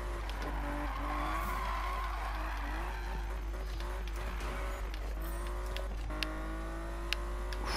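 A Nissan GTR drifts in the Need for Speed 2015 video game, tires squealing in long wavering tones over a steady engine drone, with faint clicks near the end.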